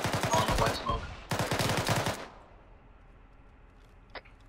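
Rapid automatic gunfire from the ARMA 3 military shooter, two loud sustained bursts of fast repeating shots in a wooded area, then a quiet tail with a couple of faint distant cracks.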